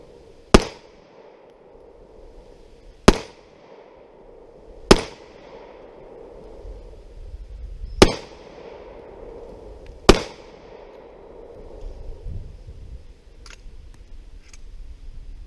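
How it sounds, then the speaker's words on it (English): Five single 9mm pistol shots from a Kahr CW9, loud sharp reports spaced about two to three seconds apart outdoors, followed by quiet ambient noise. "we're just gonna fire off a few rounds of the Kahr CW9"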